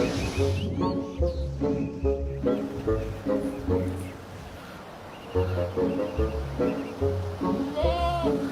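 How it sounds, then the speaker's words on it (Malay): A herd of goats bleats in several overlapping calls over a steady rhythmic music bed in a Malaysian telefilm scene, the cries moderately close and repeated throughout. "Korang ni semua kambing siapa ni?"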